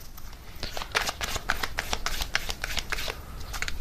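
Tarot cards shuffled by hand in a steady flurry of rapid riffling snaps and flutters, close and fairly loud, with no voices.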